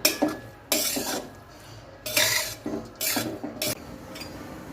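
Schezwan fried rice with salt and masala is mixed in a pan, heard as a string of short scraping and clinking strokes, fairly quiet and irregular, with brief pauses between them.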